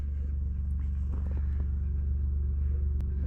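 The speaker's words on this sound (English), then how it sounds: "That 2388 makes a heck of a racket without a muffler." A Case 2388 combine runs without a muffler, producing a deep, loud, continuous engine rumble with a throbbing low pulse and a few faint clicks and knocks over the top.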